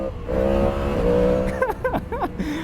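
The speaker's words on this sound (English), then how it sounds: "As I accidentally wheelie the bike, right?" A 2023 Yamaha MT-10 SP motorcycle engine surges and accelerates hard during a wheelie. It makes a rising, moderately loud tonal roar that breaks into short choppy bursts as the throttle changes.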